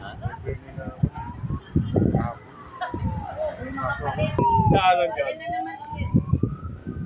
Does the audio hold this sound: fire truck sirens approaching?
yes